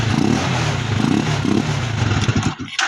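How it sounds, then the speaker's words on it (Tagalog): A cold motorcycle engine idles loudly close by while warming up, giving a steady throbbing drone with a few rises in revs before it cuts out near the end. "Painitin muna natin yung kanyang makina."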